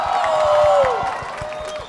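Applause from an audience at a live panel discussion on music, Black identity and resistance: steady close clapping for about two seconds, with a voice or sustained tone sliding over it early on before easing off.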